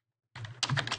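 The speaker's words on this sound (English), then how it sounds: "so I'm typing in text, shift and enter" Keyboard typing while entering text in Fusion 360, starting after a moment of silence with a quick, close run of distinct key clicks that grow louder and denser toward the end.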